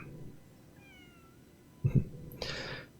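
Spring the kitten in Lies of P gives a couple of soft, close meows, with a brighter, longer mew near the end, all over low game ambience.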